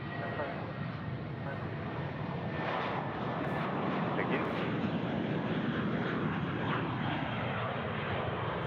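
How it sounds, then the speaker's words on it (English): A Jetstar Airbus A320 airliner takes off at Sydney Airport, producing a steady, broad jet roar heard from a distance that holds fairly constant throughout. "the A320 there, the Jetstar getting away"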